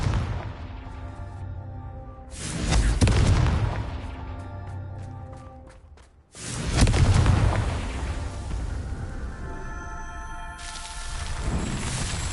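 Confringo explosive spell blasts in the Hogwarts Legacy video game: two loud, deep booming explosions, one early and one after a brief dip, each followed by a long rumbling roar and crackling debris.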